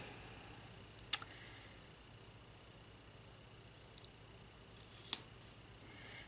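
Scissors trim Happy Planner stickers in two short, crisp snips spaced a few seconds apart, close and quiet against a faint hiss of a still room.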